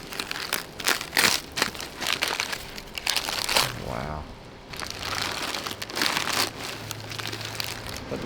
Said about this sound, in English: the sound of that crunchy wrapping paper and plastic